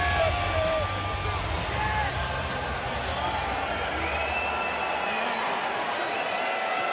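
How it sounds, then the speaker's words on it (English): A jam-packed Las Vegas arena crowd roars steadily through a heavyweight championship boxing match, a dense continuous wash of cheering and shouting that never lets up, with a voice talking over it. "Jam-packed crowd, Las Vegas, heavyweight championship of the world on the line"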